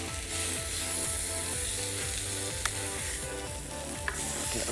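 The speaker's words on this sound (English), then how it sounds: "So we'll just mix that garlic through." Garlic stirred into bacon and vegetables sizzling in a pan beside a T-bone steak at a waterside outdoor cook, a dense continuous frying hiss with a couple of sharp clinks from the utensil.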